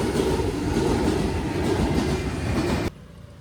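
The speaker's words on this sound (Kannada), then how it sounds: "ಯಾವ್ದೋ ಗೂಡ್ಸ್ ಗಾಡಿ ಕಣಕ್ಕ" A goods train passes a level crossing where a line of vehicles waits, making a loud, continuous rushing rumble with a rhythmic clatter of wheels that cuts off abruptly near the end.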